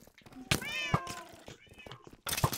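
Cats meow in a video game, a few distinct, tonal calls near and clear, with brief bursts of game noise in between.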